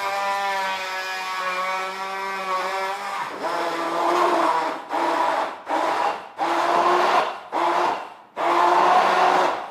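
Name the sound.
XProject 800W immersion hand blender running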